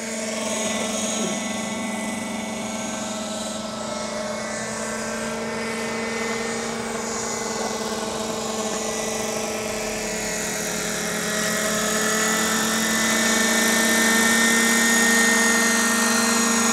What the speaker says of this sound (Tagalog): This one is a Raptor Mechanics using a 36 Standard Tiger engine.